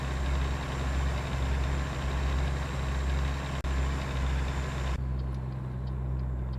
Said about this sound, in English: Listen to that engine drive.